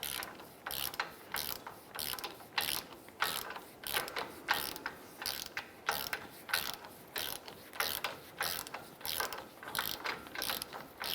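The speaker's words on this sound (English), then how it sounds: "I'm going to go ahead and tighten our outer tie rod end nut." Ratchet wrench tightening the outer tie rod end nut on a 2011-2018 Ram 1500, giving a rapid, repeated clicking pawl sound in steady bursts, close up, with no voices.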